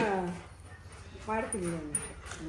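A dog whimpers and yips in short high-pitched bursts close by, with a person talking at the same time.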